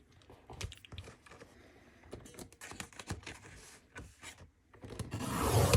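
Paper being trimmed for a craft class kit: close, quiet scraping and tapping cuts in irregular bursts, ending in a louder rustle of paper being handled.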